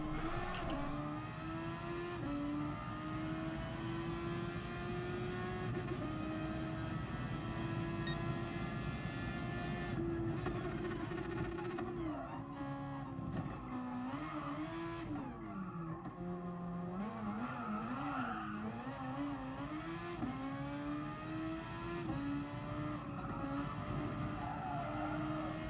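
Race car engine from the Gran Turismo racing game droning steadily throughout, pitch rising and falling with gear changes and revs, with tire squeal and skidding toward the end.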